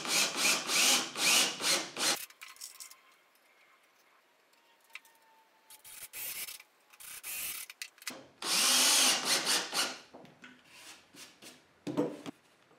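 A power drill bores screw pilot holes into a wooden tabletop for an industrial black pipe bar-height table, several loud whirring bursts separated by pauses of near silence and small handling noises.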